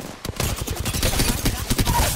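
Rapid, dense video game gunfire fills the whole stretch, overlapping bursts and shots rattling continuously at close range and high volume.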